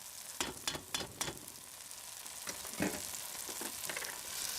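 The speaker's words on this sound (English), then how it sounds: "I cook the tomatoes first a bit" Tomatoes frying in a pan for a mussel pasta sauce, a steady sizzling hiss broken by several sharp stirring scrapes and clatters, close and free of talk.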